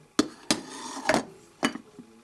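A lid is set on a stainless steel pot filled with dried fruit and boiling water, making four or five sharp metallic clanks and rattles spaced unevenly over about two seconds.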